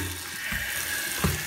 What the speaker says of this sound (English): Wash the charcoal. I'm putting it in a bucket so I don't lose any.